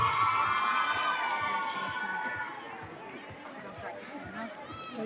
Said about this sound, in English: Clap your hands for the Dioste boys,